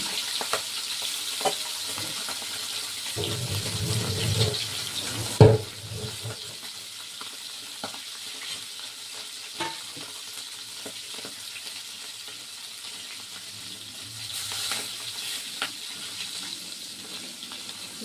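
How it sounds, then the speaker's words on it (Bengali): Fish frying in hot oil in a wok, a soft steady sizzle with a brief louder burst of crackling near the middle, heard fairly close and quiet with no talking. "মাছটা ভাজা হচ্ছে"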